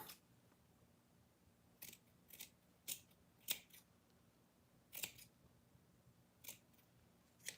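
Scissors snip through fuzzy craft material in a series of crisp, close cuts spaced irregularly about a second apart, quiet and without speech.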